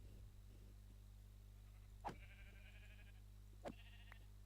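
Two bleats from a sheep in the Minecraft video game, a couple of seconds apart, each short and moderately clear over a quiet, steady low hum.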